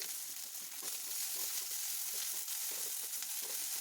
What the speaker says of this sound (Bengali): একে একে আমি পেঁয়াজ, লঙ্কা এগুলো দিয়ে আস্তে আস্তে একটু ভেজে ভেজে নিচ্ছি।